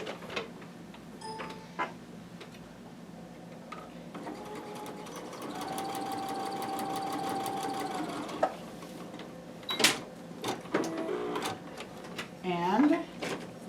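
Sewing machine stitching fabric pieces, a soft steady mechanical whir in the middle with clicks and handling noises around it, fairly quiet, with some talking.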